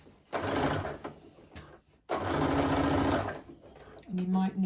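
Sewing machine stitching the seam of a crossbody bag runs in three bursts of rapid mechanical whirring, separated by short pauses, loud and close.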